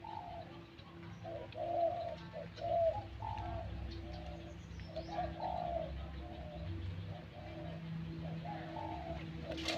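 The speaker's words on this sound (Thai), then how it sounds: "เจอนกป่าเสียงดีแล้วครับ" Rhythmic cooing from a wild bird with a medium-to-large voice near a house, soft repeated phrases, some further off, over a low steady hum and quiet outdoor background.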